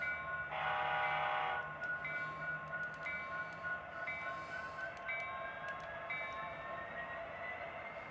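A Walthers SD70ACe model train locomotive runs with steady electronic sound, opening with a loud horn-like tone blast followed by quieter repeated tonal notes over a continuous hum, heard alone.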